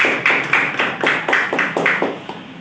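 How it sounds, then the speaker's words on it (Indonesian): Audience applause for two competing panel teams at a student panel event, heard as steady, evenly spaced claps at a quick regular beat for a few seconds, fairly close and with no talking. "Beri tepuk tangan yang meriah kepada tim panel 1 dan 2."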